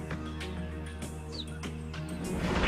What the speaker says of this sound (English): When she gets separated from her cubs, she's going to start to chirp like a bird.